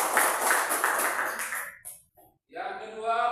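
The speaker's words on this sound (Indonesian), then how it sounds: "Tepuk tangan untuk dia." A classroom of students claps for a classmate, a dense burst of close applause that fades out after under two seconds, followed by someone speaking.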